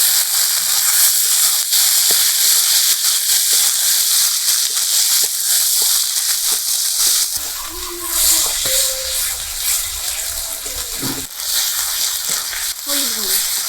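Garlic paste, chopped onion, ginger-onion paste and chopped tomato sizzle in a pan for a village-style catfish curry, a loud steady hiss throughout, with a voice speaking over it in the latter half.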